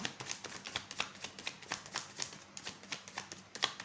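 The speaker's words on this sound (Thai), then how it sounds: "ขอสับไพ่ใหม่นะคะ" Tarot cards are shuffled by hand in a steady rhythm of soft, rapid riffling slaps and flicks, close and fairly quiet, repeating about four times a second with no voices.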